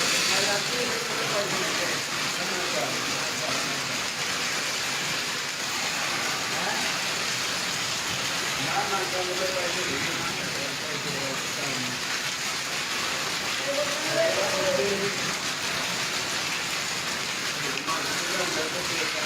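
Heavy rain mixed with hail pours down in a constant hiss, drumming on surfaces, with faint voices murmuring in the background.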